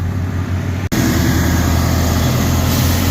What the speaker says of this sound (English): A pair of V8s. One sounds better than the other